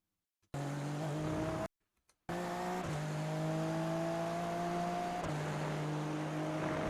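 A race car in a sim racing game shifts up early and the tires wash out, with a steady high engine drone, abrupt gear-change drops in pitch, and a brief cut in sound, close and loud.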